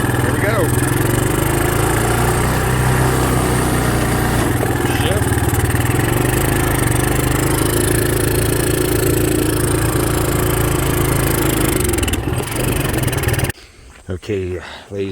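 A Kawasaki Bayou 220 ATV engine runs loudly and steadily nearby, a continuous mid-pitched rumble that cuts off near the end as someone talks over it.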